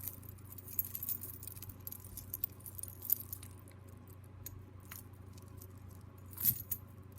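Loose coins from a bag of jewelry jingle and clink faintly, a light, scattered metallic rattle with one brighter clatter near the end over a steady low hum.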